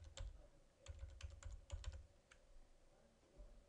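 Fingers type on a computer keyboard in quick bursts of light clicks, quiet and close, with pauses between the bursts.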